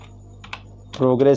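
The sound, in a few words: typing a file name on a computer keyboard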